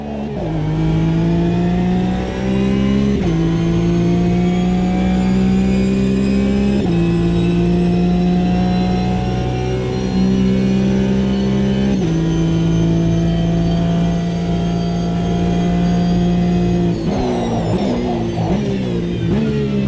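GT4 race car in the Automobilista 2 racing game, its engine revving hard and holding a loud, steady tone through repeated gear changes, with a burst of rising revs near the end and no voices.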